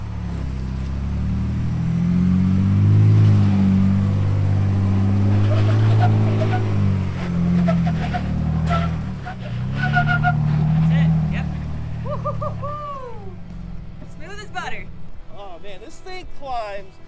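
A Ford Bronco Raptor on Nitto tires climbs an off-road slope, its engine a loud, sustained low drone that eases off toward the end while people talk over it throughout.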